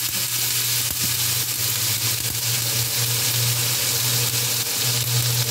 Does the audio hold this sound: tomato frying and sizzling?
yes